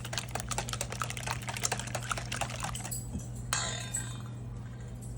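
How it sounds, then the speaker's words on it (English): Eggs, rice and green onion are whisked in a bowl with a rapid, even run of light clinks and taps for about three seconds, then the beat stops and only a softer scrape and hum remain. "give it another whisk."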